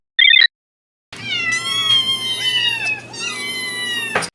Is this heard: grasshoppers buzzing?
no